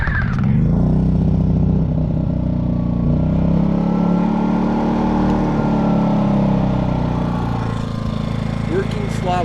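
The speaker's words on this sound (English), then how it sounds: "I want to see if it revs up or eco throttle's not working." A Generac 5000 generator with a 10-horsepower Briggs engine runs loud and close with its eco throttle being tested, holding a steady rumbling drone that rises as the engine revs up.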